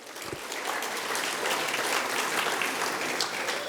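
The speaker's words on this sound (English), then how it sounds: "So give yourself a round of applause because this is impressive." A gala audience at a hall of fame event breaks into applause, swelling quickly into a broad, even roar of many hands clapping that continues steadily at moderate volume.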